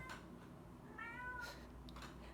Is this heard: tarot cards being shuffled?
no